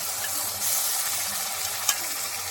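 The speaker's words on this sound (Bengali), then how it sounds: "এবার আমি এই যে মিক্সিতে বেটে রাখা আদা, রসুন, টমেটো পেস্ট দিয়ে দেবো।" Onion fries in a pan with ginger, garlic and tomato paste just added, producing a steady, bright sizzle and hiss with a faint stirring scrape throughout.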